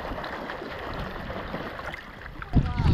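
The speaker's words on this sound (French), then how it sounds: "Il s'est mis en mode bateau à moteur." Motorboat running at sea off Ko Samui, a steady engine and water rush with wind noise throughout, swelling louder and closer near the end.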